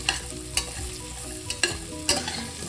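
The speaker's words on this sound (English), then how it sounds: "Just giving it a quick stir." A soya potato pulav with carrots gets a quick stir in the cooking pot, sharp spoon scrapes and clacks landing at regular intervals over a low, steady sizzle.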